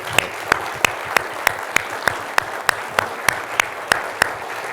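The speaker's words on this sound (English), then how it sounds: "Let's give our honorees a round of applause" Audience at an employee and officer of the month breakfast clapping for honorees, heard as a sharp, evenly spaced rhythmic clap roughly every third of a second, close and clear over a light background murmur.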